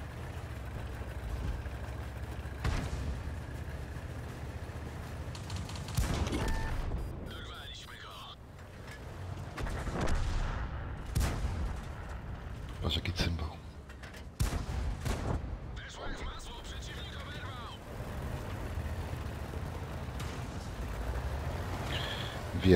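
Tank cannon fire in a tier-4 tank battle video game, heard as sharp, loud shots over a steady engine rumble, with several bursts spread across the stretch.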